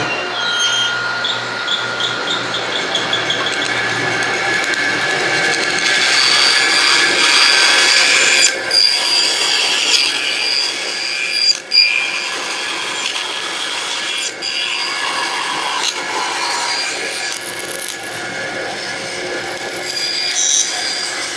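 Bandsaw cutting wood pieces for a segmented table top, a continuous loud, close whine and rasp of blade through wood, steady over the whole stretch with slight shifts as the pieces feed, with no voices.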